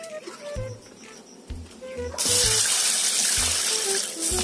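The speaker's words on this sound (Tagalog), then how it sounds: "Hugasan po talaga natin ng mabuti." Mung beans rinsed under running water in a kitchen: faint clinks and low thuds at first, then the tap opens into a loud, steady gush of water for the rest of the clip, with a few knocks underneath.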